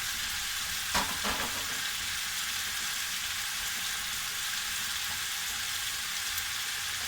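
Ground meat fries in a pan for a spaghetti tomato chutney sauce, giving a steady, dense sizzle close by, with a couple of soft scraping knocks near the start as it gets broken up.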